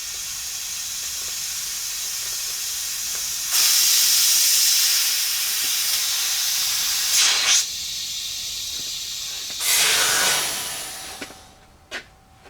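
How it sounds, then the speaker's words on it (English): Compressed air hisses steadily from a leaking fitting on a RapidAir shop air regulator, surging louder in two strong bursts before cutting off near the end. "So the initial leak you heard, you can see over here we have a blow-off valve that we use just to release pressure"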